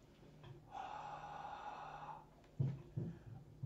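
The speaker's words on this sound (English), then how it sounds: "So I'm gonna just heat it up with my breath." Breath blown onto an Arduino temperature and humidity sensor, a long steady exhale lasting over a second, then a couple of short sharper breaths close to the mic, with no talking.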